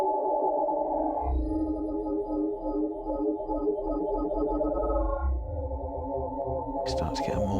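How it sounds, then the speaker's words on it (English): A droning, mechanical synth texture from the UrsaDSP Lagrange reverb's Womphus preset plays continuously and fairly loud, with a shift in tone midway and a brief bright burst near the end. "we start to get a more mechanical, strange sound"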